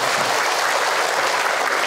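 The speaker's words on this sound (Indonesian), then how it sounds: "Tepuk tangan dong buat yang bertanya teteh" An audience at an Indonesian Islamic lecture by Ustadz Hilman Fauzi applauds a woman who asked a question, a dense, steady wash of many hands clapping throughout with no voices over it.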